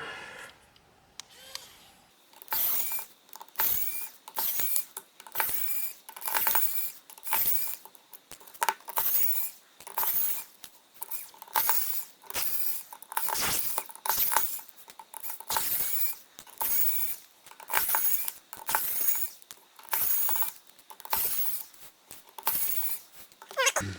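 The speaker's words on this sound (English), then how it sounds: "we want to get all these screws out. So we'll grab our screwdriver" A screwdriver backs screws out of a Hot Pepper Cascabel phone during a teardown, making a long run of small, rapid clicking and ratcheting ticks in close, regular bursts, quiet and alone.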